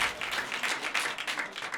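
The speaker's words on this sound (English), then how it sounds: "By a round of applause, how many of you are cat people?" A comedy club crowd claps in a short burst at a stand-up show, uneven and moderately loud, with individual claps standing out and a few scattered voices mixed in.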